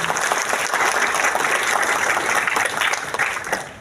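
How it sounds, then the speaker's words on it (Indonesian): A crowd at a political party gathering claps in a steady, dense round of applause that stays loud throughout, with no speech over it. "Tepuk tangan untuk bersama."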